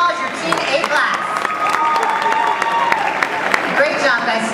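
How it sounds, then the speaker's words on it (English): A crowd claps steadily in sustained applause for a teen bodybuilding class at an awards ceremony, dense and fairly loud, with a voice carrying over the clapping. "Give them a big round of applause, your team A class."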